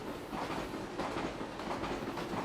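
KRL electric commuter train in the Roblox game IER running at speed, a steady rolling rumble with rhythmic wheel clatter throughout, loud and close, no voices.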